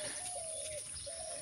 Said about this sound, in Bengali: পাখি ডাকতেছে, ঘুঘু ডাকতেছে।